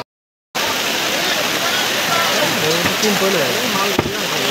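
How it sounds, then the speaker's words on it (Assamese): After a brief silence, heavy rain pours down in a dense, constant roar, with a person's voice faintly audible beneath the downpour. "একদম বৰষুণত ফাটি গৈছোঁ এইফালে চাওক বৰষুণ"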